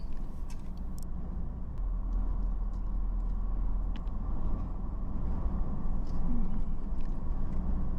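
An overland vehicle with its tyres let down drives along a sandy safari track in the Botswana wilderness, giving a steady low engine and road rumble that runs throughout with no talk.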